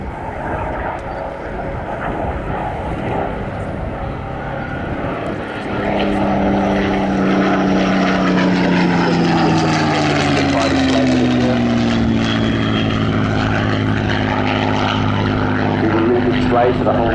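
Battle of Britain Memorial Flight Lancaster, Spitfire and Hurricane propeller aircraft in a formation flypast, a loud, continuous piston-engine drone that swells at around six seconds and holds steady, with shifting pitch as the aircraft pass overhead.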